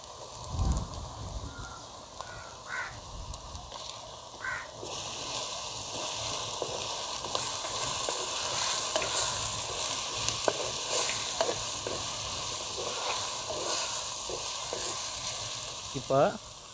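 Curry leaves fry in hot oil with a steady, crackling sizzle, broken by a few sharp pops and some stirring.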